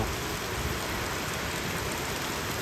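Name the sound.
heavy rain with thunder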